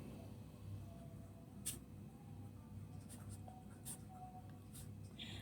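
A pen scratches numbers onto paper while working a class seven maths problem, soft scattered scribbles and taps over a faint room hum.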